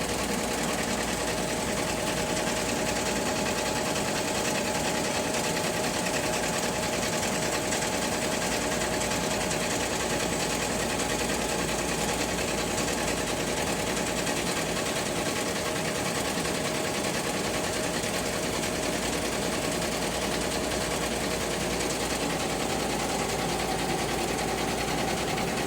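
A Melco multi-head embroidery machine running three heads hums and chatters in a fast, steady mechanical rhythm, unchanging and continuous throughout with no voices.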